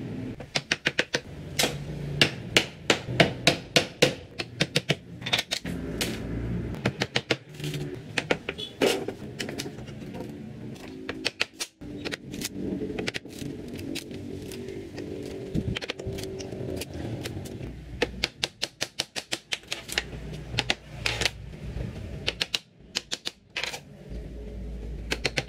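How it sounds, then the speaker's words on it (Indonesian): A wooden crate is pried and broken off a 120 Wp monocrystalline solar panel, giving dense runs of sharp clicks, knocks and scrapes at close range, with brief pauses between bursts. "Saya akan lepaskan dulu packing kayunya ya"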